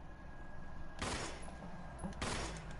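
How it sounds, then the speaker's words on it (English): Gunfire from the video game Resident Evil Village comes as two loud, broad bursts about a second apart over a constant low background hum, with no speech. "I try shooting ahead, but I'm missing a lot."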